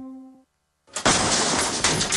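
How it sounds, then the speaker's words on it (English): Near silence, then a sudden loud crash of a door bursting open under a single kick, followed by a sustained harsh, noisy clatter. "That's the sound of your door being kicked in by an intruder with a single kick."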